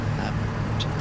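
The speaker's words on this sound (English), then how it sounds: "So it really is a pretty good car to be driving" Inside a Bentley driving on a road trip, a steady, loud engine and road rumble runs throughout with no break.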